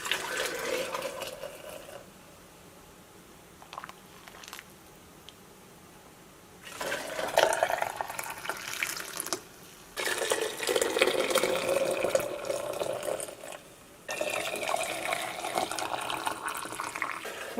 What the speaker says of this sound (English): I like to rinse them with some hot water and soap